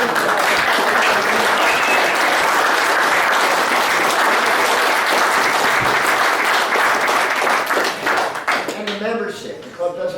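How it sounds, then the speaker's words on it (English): Club members at a reunion stand and applaud, a loud, sustained roar of clapping that fades after about eight seconds into scattered claps with voices talking. "How about everybody stand up and give yourself a round of applause?"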